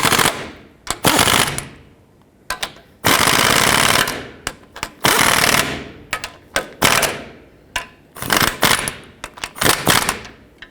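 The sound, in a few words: power tool snugging up Toyota Sequoia ball joint bolts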